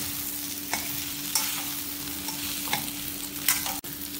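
Boiled potato is stirred into frying masala in a pan while cooking Kumbakonam kadappa, giving steady close sizzling with a few sharp scraping strokes of the spoon. No one speaks.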